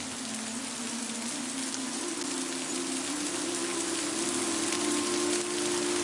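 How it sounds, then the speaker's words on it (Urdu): A heavy downpour sound effect for a narration of the great flood in the story of the Prophet Noah: a steady, dense hiss of torrential rain on surfaces, constant and alone without speech. "موسلادھار بارش ہونے لگی."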